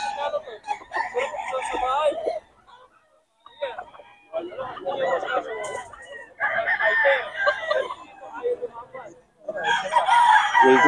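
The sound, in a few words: gamefowl bull stag rooster crowing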